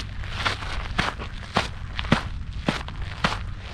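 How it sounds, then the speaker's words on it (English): Footsteps walking on a hiking trail, a steady series of close crunching steps, about two per second, with no talk over them. "Listen back to your footsteps."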